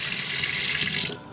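Water gushes steadily from a motorhome faucet once the pump is switched on, a strong continuous rush that stops abruptly near the end.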